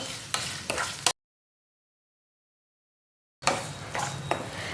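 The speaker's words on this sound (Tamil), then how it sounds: "இந்த எண்ணெயில் இந்த தக்காளியை நல்லா வதக்கி விடலாம்." Tomatoes sauté in oil with curry leaves and salt for a chutney, making a close sizzle with clinks and scrapes of stirring in a pan, cut by a long stretch of total silence in the middle.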